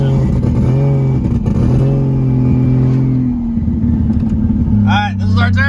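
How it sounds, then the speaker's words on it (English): A car engine bucking while driving under a steady loud drone with shifting pitch, the exhaust occasionally popping, as someone talks over it. "Exhaust is popping, bucking."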